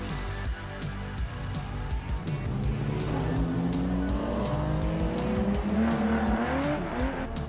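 A Mercedes 190E 2.5-16 Evolution II, a 1980s German sports sedan, drives hard with a loud, continuous engine roar that rises and falls as it revs through gears, with tire noise and a dense, rumbling exhaust.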